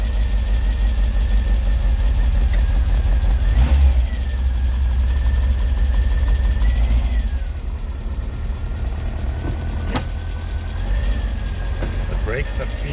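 An old campervan's engine with the choke on, running loud and rough in a steady low rumble with revving swells, nearby throughout and under occasional talk.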